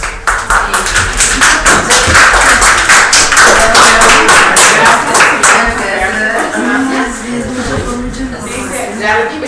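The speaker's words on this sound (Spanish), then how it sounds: "Un aplauso." Applause from an audience at an academic talk on advanced social research, a steady patter of clapping hands that fills the room for several seconds with some talk underneath.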